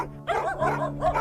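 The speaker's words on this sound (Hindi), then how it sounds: "मेरे ऊपर क्यों भौंक रहे हो?" Several dogs bark in quick overlapping bursts at moderate loudness in a horror story setting, with no speech over them.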